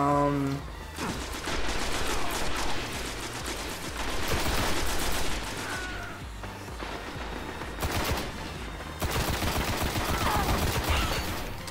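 Gunfire from a Destiny Crucible PvP multiplayer match, with dense bursts of rapid shots running almost without pause and only short breaks, loud and close over a busy game soundscape.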